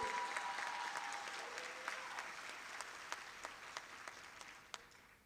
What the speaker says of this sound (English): Can we give a round of applause to them that made it?